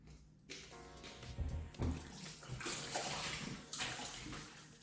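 Tap water runs steadily into a sink basin where raw chicken is being washed in vinegar water, with splashing and swishing surges as the meat is handled, close and continuous throughout.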